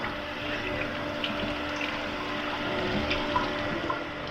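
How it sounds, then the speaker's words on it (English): Steak is rinsed under a running kitchen tap, a steady close rush of water splashing into the sink for the whole stretch, with no talking. "you're just gonna rinse it off really good"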